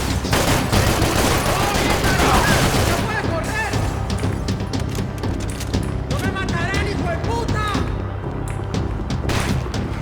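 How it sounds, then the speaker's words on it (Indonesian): Dense, sustained gunfire from the shooter game Max Payne 3 runs throughout, heaviest in the first few seconds. A voice talks over it. "Anjing dia nembak lagi"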